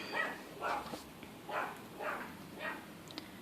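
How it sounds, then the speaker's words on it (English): A dog barks about five times in an even rhythm, the barks quiet and somewhat distant against a faint background hum. "that dog is going to be the death of me. He doesn't never shut up."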